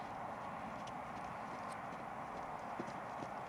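Horses walking over ground poles during a riding session, steady clip-clop of hooves at a moderate distance with a few slightly louder knocks, under a constant outdoor background hum.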